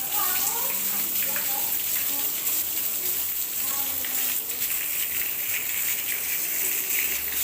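Continuous rushing water streams from several taps at a wudu ablution station running together, a steady hiss filling the whole stretch with no pauses.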